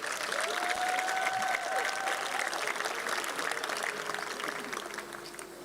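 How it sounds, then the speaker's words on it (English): An audience at a high school rugby capping ceremony applauds steadily, a sustained spread of clapping that tapers slightly toward the end, with a voice faintly heard beneath. "Give those gentlemen a round of applause, please."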